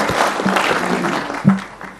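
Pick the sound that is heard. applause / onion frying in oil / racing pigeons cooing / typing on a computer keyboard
applause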